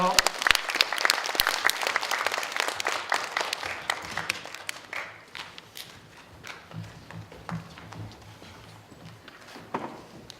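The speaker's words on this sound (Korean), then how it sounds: "큰 박수로 맞아주시기 바랍니다." An audience at a children's composer concert bursts into loud, dense applause to welcome young performers. The clapping fades over several seconds to scattered claps and footsteps, with some talk.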